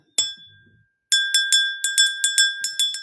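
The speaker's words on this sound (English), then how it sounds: "Let me ring this bell." A small handbell rings in a quick series of bright, ringing strikes after a brief initial ding and a moment of quiet, each tone sustaining clearly.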